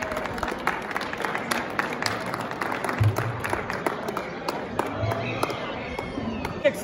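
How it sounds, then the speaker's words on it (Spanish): Applause from the crowd for the winners at a miniature rooster expo in Mexico, scattered claps running under a voice on the announcer's microphone. "Y fuerte el aplauso de todos ustedes también"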